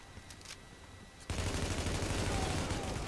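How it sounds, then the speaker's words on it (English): Sustained automatic gunfire in the video game The Division, bursting in loud and dense after a quieter stretch with brief background sounds, continuing steadily to the end. "Alright, yeah, shoot at me."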